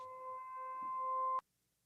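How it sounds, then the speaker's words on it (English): A steady electronic tone, siren-like and ominous, holds a pure pitch with faint harmonics for over a second, then cuts off abruptly with a click into near silence. "It sounded like a real siren."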